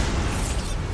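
A Bombarda spell blast in Hogwarts Legacy, a dense low rumbling boom that fills the whole second at steady loudness with no talk over it.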